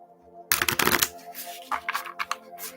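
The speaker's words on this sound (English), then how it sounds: "as I'm shuffling the cards" Tarot cards being shuffled by hand, a few quick riffling bursts of papery flutter and slaps, close and crisp against a quiet background.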